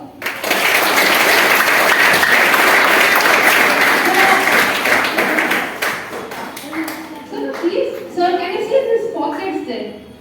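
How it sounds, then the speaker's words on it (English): Students in a classroom clap loudly and steadily for a classmate, the burst holding for about six seconds before breaking into scattered claps and overlapping voices. "Okay, so clap for her."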